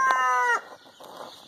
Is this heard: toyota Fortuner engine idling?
no